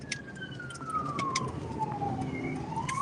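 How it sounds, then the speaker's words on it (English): An emergency vehicle siren wails somewhere out on the road while heard from a car, a rising and falling electronic tone carrying at moderate distance over road rumble and scattered clicks. "I hear a siren."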